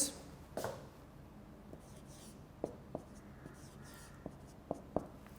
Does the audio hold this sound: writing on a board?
yes